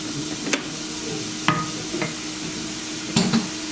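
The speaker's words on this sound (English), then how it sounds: "get that vegetable nicely sauteed" Vegetables sauteing in a pan, a steady low sizzle broken by a few sharp scrapes and clinks of stirring, close and alone with no talk.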